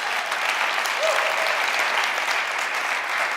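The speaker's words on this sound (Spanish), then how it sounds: "En el nombre de Jesús, dele un aplauso." Steady applause from a church congregation during a Spanish-language worship service, dense even clapping filling the room throughout without a break.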